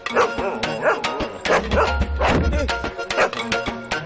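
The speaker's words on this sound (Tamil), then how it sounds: "இங்க ஒரு கொலவெறி பிடிச்ச நாய் இருக்கடா உள்ள." A fierce, aggressive dog barks in a dense run of close, loud woofs and yelps, over a low rumble with other sounds mixed in.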